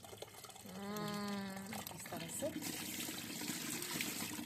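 Water pouring and splashing over fish being washed outdoors on a rooftop, a steady running wash under a voice talking.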